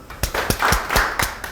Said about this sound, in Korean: 박수를 칠 건데 많이 치면 이제 우리 피곤하니까 딱 3번만 치도록 하겠습니다